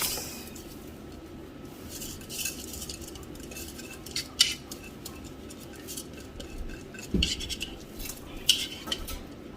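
Food going into a cooking pot, with clinks of a spoon against metal cookware and scraping over a low background hum, several sharper knocks spaced irregularly.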